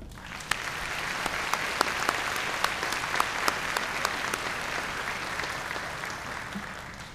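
Audience applause at a spring commencement ceremony at Limestone College, a steady, dense wash of clapping from a large crowd that holds for the whole stretch, with a few sharper individual claps standing out near the front.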